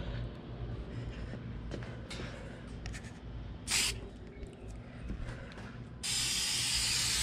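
Spray gun laying down a first coat of paint on a Toyota Camry fender, a steady loud hiss that surges in bursts and becomes a continuous close spray near the end, over a low background hum.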